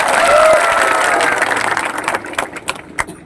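A crowd at a political rally in Sabroom applauds in a dense, loud burst of clapping. The clapping thins out over a few seconds into scattered, separate claps.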